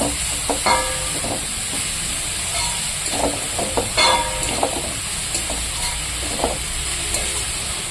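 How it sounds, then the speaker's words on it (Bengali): Chopped saag greens are stirred in a hot pan over a constant sizzle, with intermittent metallic scrapes and clinks from the utensil, and no voices. "এবার ভালো করে নাড়াচাড়া করে দেবো"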